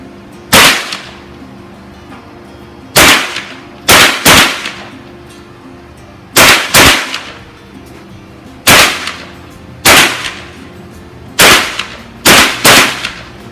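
An HK416 assault rifle fires at a test range in sharp, loud single shots and quick doubles, about a dozen reports spaced a second or two apart, each followed by a short echoing decay.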